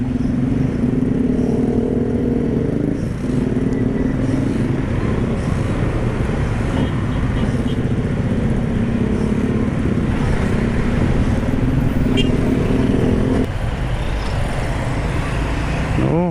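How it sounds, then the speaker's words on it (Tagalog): A busy road with cars and motorcycles rumbles past continuously, engines droning in a thick, steady wash of traffic noise, with a rider's motorcycle engine humming close by throughout. "Dami sasakyan."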